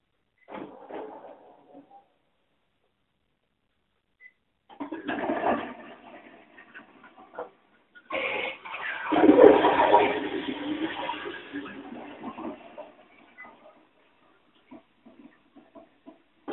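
A Japanese high-tech toilet flushes with a rushing, gurgling swell of water that builds and then fades, preceded by short mechanical clicks and whirs from the bowl's electronics, heard close up with no talking.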